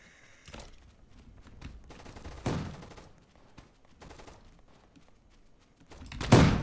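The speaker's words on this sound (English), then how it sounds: "I think that was a shotgun" Shotgun fire in the Roblox Gunfight Arena video game, a series of sharp blasts at irregular intervals, closing with one heavy, louder shot, with no talk.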